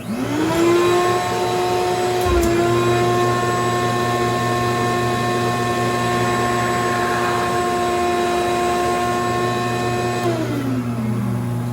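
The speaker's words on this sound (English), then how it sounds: "I make my first cut there, and then I just go right back in and finish the hole with a 31/32." A drill press bores a hole into a bowling ball, its motor whining at a steady high pitch with a brief dip near the start as the bit bites, then winding down at the end, loud and close, no speech.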